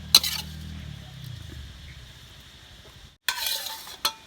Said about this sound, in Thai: ขอดกระทะเลยครับนี่